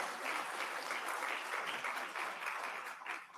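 Audience applause at an international human rights summit opening session, a large hall of people clapping continuously, heard somewhat distant and faint.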